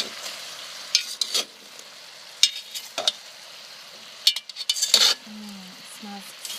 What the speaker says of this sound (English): still hear it sizzling